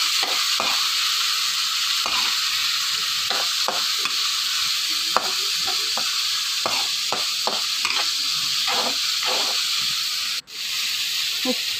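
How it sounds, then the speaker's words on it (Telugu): Onions and green chilies fry in a hot pan for a thalimpu tempering, giving a steady, close sizzle with repeated scraping stirs and one brief sharp knock near the end. "ఉల్లిగడ్డలు పచ్చిమిరపకాయలు వేయాలి ఫ్రెండ్స్. వేసి బాగా ఫ్రై చేసుకోవాలి"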